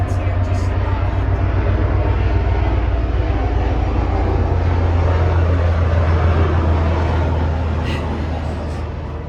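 A propeller airplane passes over a beach during an outdoor morning workout, a loud continuous low droning rumble that holds steady and then slowly fades.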